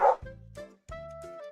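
A dog in a video game gives two short, bright woofs, each a quick yelp followed by a tonal whine, close and clear against a quiet background.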